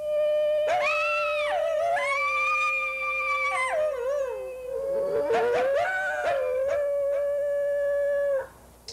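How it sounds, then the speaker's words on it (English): A coyote living on a ranch howls in long, sustained wavering tones close to the microphone, rising and bending, then breaks into shorter yips and whines before a final long howl trails off. "A coyote named Cody, who's Ray's howling buddy."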